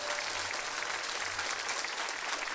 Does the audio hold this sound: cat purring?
no